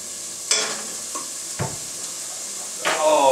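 Vegetables and garlic fry in a pan with a continuous soft sizzle, broken by a few distinct scrapes and clacks of a utensil stirring, close and clear with no talking.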